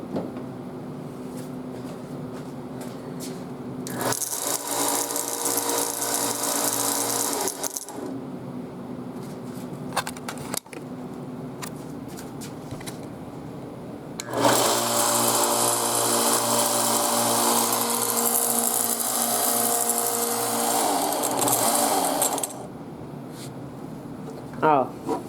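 A belt sander with a freshly replaced belt runs in two loud bursts of steady whirring, with quieter shop handling noises between and around them.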